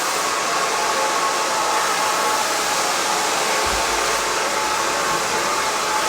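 A hair dryer blowing on hair with a loud, steady roar of rushing air held close and constant, its pitch shifting slightly partway through, with no talking.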